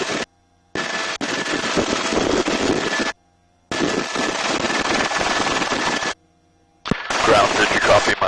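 Sustained bursts of machine gun fire from a gunship helicopter, three long loud roaring volleys separated by brief silences, with a final burst starting near the end.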